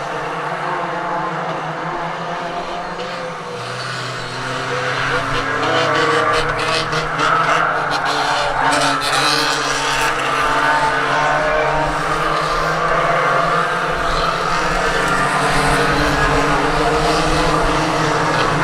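Race cars at Swaffham Raceway roar past together in a dense, continuous engine drone that swells and rises, with revving layered over a broad dusty rumble throughout.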